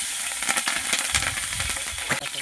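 Spices and onion frying in a pan, a busy close sizzle with crackling pops and stirring scrapes throughout, loud and continuous.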